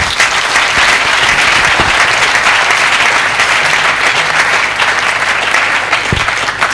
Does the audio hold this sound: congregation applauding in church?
yes